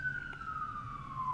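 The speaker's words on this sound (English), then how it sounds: "Sorry for the loud sirens out here." A police siren wails outside, a single steady tone sliding slowly downward, heard through a room at moderate distance over a low background hum.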